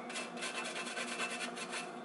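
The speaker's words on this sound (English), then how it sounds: "So I'm gonna grate some ginger in here." Fresh ginger scraped steadily across a grater, a close, continuous rasping rub with a quick back-and-forth rhythm and no talking.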